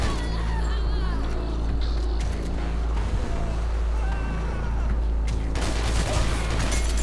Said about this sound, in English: Last known gunshots were in the front of the building.